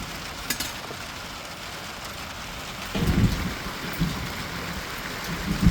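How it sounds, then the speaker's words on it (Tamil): Heavy rain pours steadily outdoors, a dense continuous hiss, while a few closer low thuds and rumbles surface partway through. "வேகமாக ஆகுது மழை."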